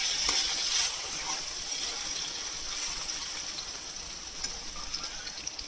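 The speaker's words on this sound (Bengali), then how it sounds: "ধীরে ধীরে এটাকে একটু ভেজে নেব, কারণ এটা নাড়তে নাড়তে কিন্তু গলে যেন যায়" Ingredients for spicy mutton laal maas frying gently in a pan, a steady soft sizzle with occasional stirring scrapes, fairly faint and continuous with no talking over it.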